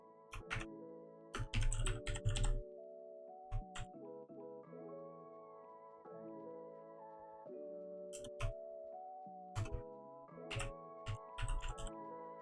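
Typing on a computer keyboard while entering code, soft clustered key clicks in short irregular bursts separated by pauses, close and fairly quiet, over a steady tonal background with no talking.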